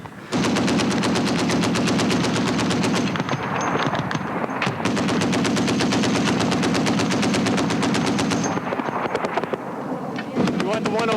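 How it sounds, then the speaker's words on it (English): Rapid machine-gun bursts roar almost continuously as infantry soldiers in Shkin, Afghanistan return fire on a ridge line, with loud, dense volleys broken by a brief pause and a few shouted voices. "We think we're taking fire. We're returning it."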